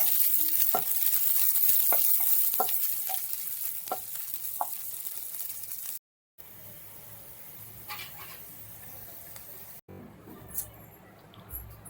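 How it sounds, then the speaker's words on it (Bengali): Chopped onions frying in hot oil for a Bengali mutton dish, a steady close sizzle with scattered crackles and pops and occasional stirring, continuing with brief breaks toward the end. "পেঁয়াজটাকেও আপনাকে লাল লাল করে ভেজে তুলে নিতে হবে"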